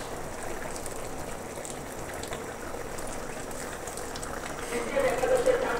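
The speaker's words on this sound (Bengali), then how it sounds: "এবার আমি 2 মিনিটের মতো ফুটিয়ে নিয়ে নিয়েছি" A boal fish curry simmering in a pot on a gas stove, a steady soft bubbling and sputtering that is faint and continuous and rises a little toward the end.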